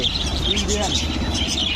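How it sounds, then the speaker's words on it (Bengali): Pigeons at a bird farm at Beutha junction in Manikganj give off close, repeated chirps and soft calls over steady background noise, with people talking nearby. "কি সুন্দর সুন্দর কবুতর পাখিগুলো"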